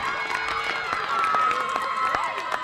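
A crowd at an 18U travel softball game in Kyle, Texas cheers and claps steadily after a home run over the left field wall. The shouting is fairly near and sustained, broken by sharp claps and whistles.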